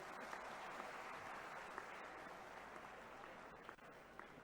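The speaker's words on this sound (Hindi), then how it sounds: "जोरदार ताली तो अच्छी बजना चाहिए" A crowd at a government event in Sehore, Madhya Pradesh applauds steadily, a dense distant-sounding wash of many hands clapping that holds at an even level throughout.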